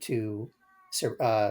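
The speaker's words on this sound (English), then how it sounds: "No, that's my cat." A house cat meows twice, one drawn-out call then a shorter one after a pause, close and clear, with a man's speech heard around it.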